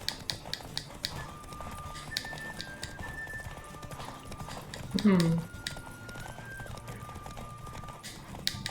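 Hooves clip-clop steadily from a horse in The Witcher game, with a short neigh midway and a person talking over the scene.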